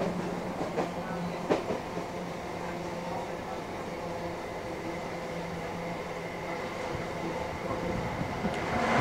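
Local train running on the Sealdah to Barasat line near Kolkata, a steady rumble with rhythmic wheel clatter and rattling carriages throughout, growing slightly louder toward the end, with no talking.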